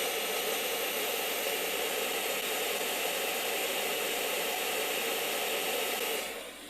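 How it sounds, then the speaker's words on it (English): A steady, even hiss of pink noise from a noise generator running unchanged for several seconds, then cutting off near the end. "And that is your pink noise"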